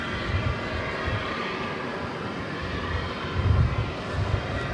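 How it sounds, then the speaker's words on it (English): A 32-year-old Boeing 747-400 departing Dallas/Fort Worth for Seattle produces a continuous rumbling jet roar with a low, churning undertone that swells slightly toward the end, and no talk. "this Queen is on its way to Seattle"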